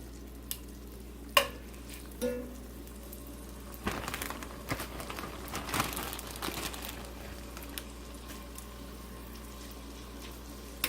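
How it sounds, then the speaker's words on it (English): Chicken pieces sizzle in butter in a pan: a steady, soft frying hiss throughout, broken by a few sharp clatters and stirring scrapes early on and a busier patch midway. "do you hear that chicken sizzling away?"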